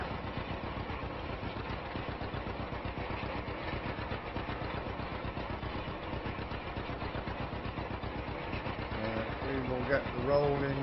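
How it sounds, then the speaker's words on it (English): A 1949-era John Deere A tractor engine in Farming Simulator 25, rolling wheat in: a steady, fast putt-putting idle-like chug running continuously and fairly loud for the whole stretch. "Tractor hopping away like a John Deere does"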